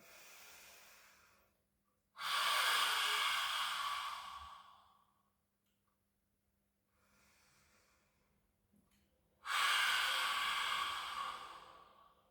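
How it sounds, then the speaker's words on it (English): Two long, forceful open-mouthed lion's breath exhalations from a yoga exercise, each a loud breathy rush lasting a couple of seconds, separated by a quieter inhale. "let's take 3 lion's breaths here"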